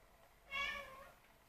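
A single short cat meow, fairly faint and close, rising and falling in pitch over about half a second against a quiet background.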